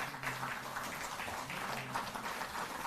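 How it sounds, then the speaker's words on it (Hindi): Sustained hand-clapping from a gathered crowd at a government function for newly regularised contract staff, a dense, steady patter of medium loudness that continues evenly for about three seconds. "सभी लोग जोरदार तालियों से अपना सहयोग देंगे"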